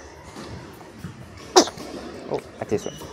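A single sharp sneeze bursts out once in a packed indoor hall during a fencing match at ASPTT Metz, rising above a murmur of crowd noise and voices, with a few softer knocks after it.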